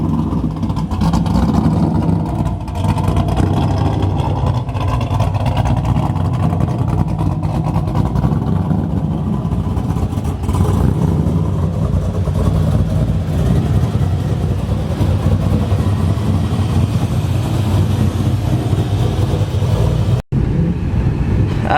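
A powerful car with a forged LS3 engine and single billet turbo rumbles loudly and continuously while driving, a deep steady growl with slight rises in revs.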